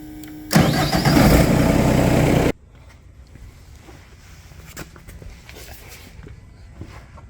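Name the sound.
hydraulic machine engine starting up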